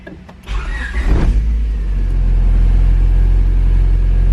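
A 2000 Honda Civic Si with a K20A engine starts up, heard from inside the car: a short starter whir and catch with a quick rev, then a loud, steady idle drone that continues to the end.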